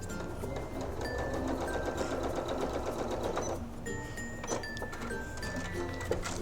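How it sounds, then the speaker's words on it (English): Sewing machine stitching a quarter-inch seam down quilt binding, running over pins, with a steady continuous whir and rapid needle ticking throughout, close and alone. "Sewing a 1/4 inch all the way down. Sewing over pins."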